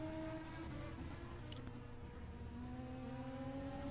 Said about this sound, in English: The engine sounds pretty quiet compared to F1 cars